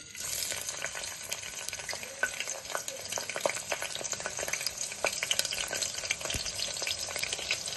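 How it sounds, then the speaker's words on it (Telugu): Bay leaf and green chilies frying in hot oil: a dense, continuous crackling sizzle with scattered sharp pops, close and steady throughout, with no voices. "ఆయిల్ అయితే వేడయింది ముందుగా మనం బిర్యానీ ఆకి వేసుకుందాం పచ్చిమిర్చి"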